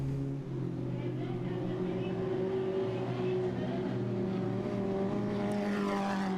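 Dirt track race cars roar steadily at a speedway in Southern Ontario during the closing laps of a weekly race, a continuous loud engine drone with shifting harmonic tones as cars pass.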